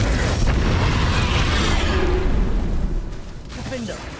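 Confringo fire spell explosion in the video game Hogwarts Legacy, a loud rumbling boom that fills the opening seconds and then decays, with game effects after.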